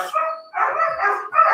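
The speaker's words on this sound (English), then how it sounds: "You hear the dogs outside?" Dogs bark outside in excited bursts, three quick loud barks with short gaps, fairly close and clear, with no talking over them.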